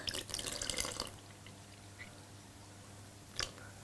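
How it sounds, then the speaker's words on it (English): Milk is poured into a bowl of cake batter, a close, brief liquid splashing rush for about a second that fades into quiet, followed by one small tap. "Pour in our milk,"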